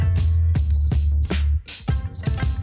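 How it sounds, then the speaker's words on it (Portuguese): A cricket, singing at a rate of 17 chirps in 8 seconds, chirps loudly and close by in evenly spaced trilled bursts, about six pulses with short gaps between them, heard alone. "esse grilo canta 17 vezes em 8 segundos"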